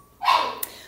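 A puppy gives a single sharp bark while chasing a cat indoors, a short yip that rises suddenly and fades within a second, fairly close and alone without any talk over it.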